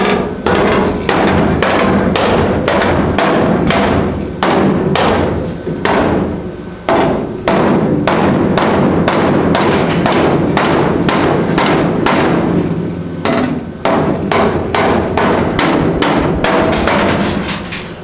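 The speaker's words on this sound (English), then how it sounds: "I keep that hammer work going" Rapid, regular hammer blows ring out on sheet metal floor pans, loud and close, continuing in steady bursts with only brief pauses.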